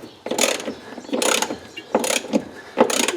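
Ratchet spinning nuts back onto the trailing arm bolts of a 1999 Chrysler 300M, four close bursts of rapid clicking, each about half a second long, separated by brief pauses; no talk.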